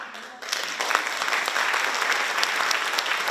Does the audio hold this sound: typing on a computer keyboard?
no